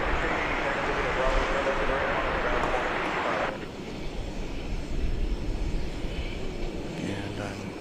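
Loud, steady broadband roar of an Alaska Airlines Boeing 737-900 jet at DFW Airport, heavy for the first half then dropping to a lower rumble that continues to the end.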